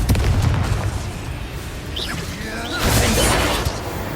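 A Confringo blasting spell from Hogwarts Legacy goes off as a loud, sustained fiery burst with whooshing swells and rumbling booms, peaking near the start and again near the end over busy game effects.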